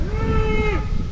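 A cow lets out a single long, loud moo on a mountain trekking route, the call holding steady and then dropping at the end, standing alone without talk.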